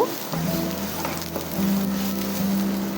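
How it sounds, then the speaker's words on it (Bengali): Chopped, deseeded tomato and spices fry in a pan with a steady, close sizzle, accompanied by a faint tonal hum, while chickpeas are prepared. "এবার একটু ভেজে নেব।"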